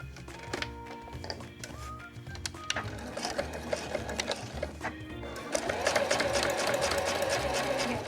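A sewing machine stitches and backstitches a body bag seam, close and mechanical, with rapid rhythmic needle chatter in short starts and stops that build into a longer, louder steady run near the end.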